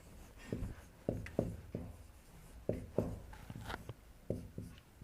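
Chalk or marker strokes on a classroom board during a maths lesson, a series of short scratchy taps and strokes in uneven bursts, close and fairly clear with no talk.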